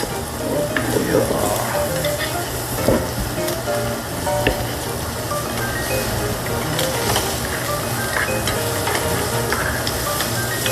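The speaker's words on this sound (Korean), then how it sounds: "한번 들어보세요. 고기가 치크치 소리 한번." Close, loud sizzle of meat grilling, a dense continuous frying hiss with frequent crackles and pops that carries on steadily with no talk over it.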